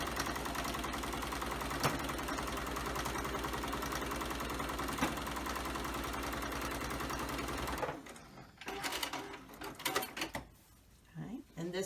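A sewing machine runs steadily as it stitches a quilt block seam with a quarter-inch allowance, a continuous mechanical whir lasting about eight seconds before it stops, leaving quieter handling noises.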